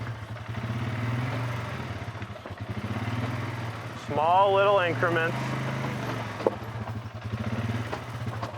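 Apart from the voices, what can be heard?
Polaris ATV engine crawling over rocks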